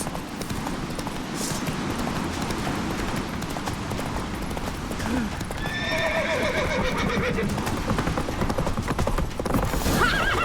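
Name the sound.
horse galloping in video game The Witcher 3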